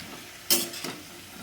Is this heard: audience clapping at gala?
no